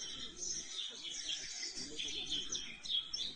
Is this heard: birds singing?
yes